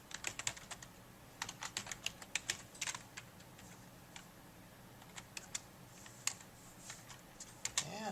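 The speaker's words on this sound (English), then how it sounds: "And then we're going to now call the write function." Computer keyboard keys clatter in quick irregular bursts and isolated taps while someone writes code, close and fairly quiet, with short pauses between runs of keystrokes and no talk.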